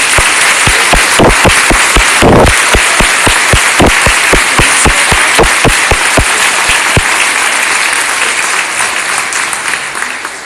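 Audience applause for the local firefighters of Siskiyou County, Weed and Mount Shasta, a dense crowd clapping loudly and steadily throughout, with sharp individual claps standing out before it gradually thins toward the end.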